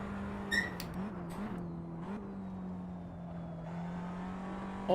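A race car in Assetto Corsa holds a steady, droning engine note at speed, with brief dips as it shifts through high gears and a sharper burst near the end, loud and continuous.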